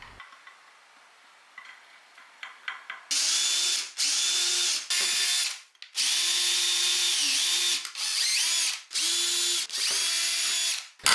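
A power tool drives M4 bolts into lamp parts and brackets in loud, close bursts of high whirring, each lasting about a second, separated by short pauses after a quiet start.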